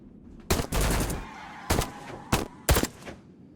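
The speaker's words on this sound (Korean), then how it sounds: "어, 총소리?" Gunfire in the video game Hello Seoul: Itaewon demo, several short sharp bursts of shots separated by gaps, fairly loud, with one longer burst at first and quick single cracks after.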